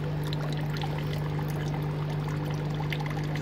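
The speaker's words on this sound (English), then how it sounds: "Just drip the water in from the pond." Pond water dripped and poured into a floating basket to acclimatise baby fish, a steady trickling wash outdoors over a constant low pump-like hum.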